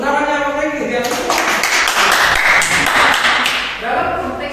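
A group of students in a school classroom claps hands together in a burst lasting about three seconds, loud and close, with voices heard before and after the clapping.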